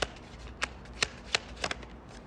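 Tarot cards are shuffled in several quick riffling bursts spaced apart, close and crisp against a quiet room hum, with no talking.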